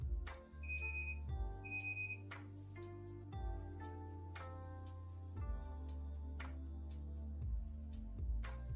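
A digital readout fitted to a PM-728V-T milling machine gives two short, clear electronic beeps close together, over a steady low machine hum.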